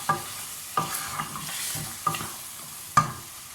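Heated oil is poured onto half-cooked mutton for a curry, and the pan sizzles steadily under repeated stirring, with sharp scraping strokes about once a second, close and without talk.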